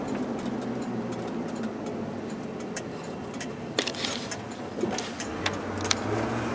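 A 1991 Ford F-250 4x4 pickup rolls up a driveway, its engine a low steady rumble heard from inside the cab, with faint rattles and clicks over it.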